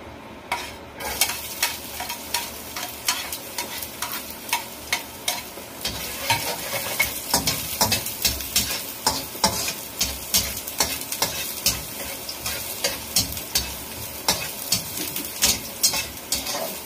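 Ingredients for Filipino pancit bihon sautéed in a pan: close, continuous sizzling broken by frequent sharp scraping and clacking stir strokes, with no talking.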